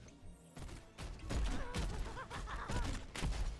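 Junkrat's frag launcher in Heroes of the Storm fires a series of punchy explosive bursts and thumps, layered with game effects and bright tonal chimes, moderately loud and continuous after a quiet start.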